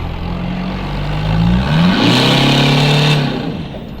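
A boosted car accelerates hard with clutch spin and tire slip, its engine note loud and climbing in pitch as it revs and pulls steadily, with no voices over it.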